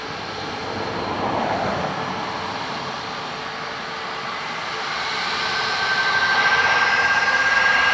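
An airliner at Dublin Airport produces a steady jet engine roar that slowly swells louder toward the end, with a thin high whine threading through the broad rumble and no voices.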